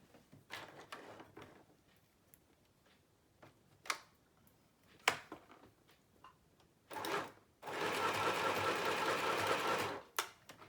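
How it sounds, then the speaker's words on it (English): A home sewing machine runs a zigzag stitch in one steady burst of several seconds, preceded by clicks, taps and handling knocks as the work is set in place; no one speaks. "I'm gonna go to my sewing machine real fast."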